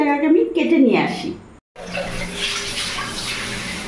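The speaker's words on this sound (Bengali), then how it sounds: "মোচাটা সেদ্ধ করার জন্য আমি কুকারটা ধুয়ে নিলাম" Water runs steadily from a tap as a pressure cooker is rinsed in a kitchen, a continuous splashing rush after a short pause, with a voice speaking over the start.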